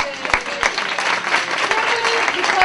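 An audience at a business women's forum claps for Kimberly, a dense, steady round of applause from a sizable room, with a few sharper claps standing out.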